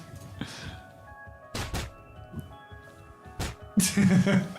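A punch sound effect stands in for gunshots during a space pirate tabletop role-playing session: three dull, separate thuds spaced over a few seconds, followed by a louder, noisier burst at the end.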